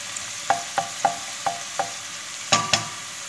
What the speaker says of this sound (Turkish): Çok güzel sotlayacağım arkadaşlar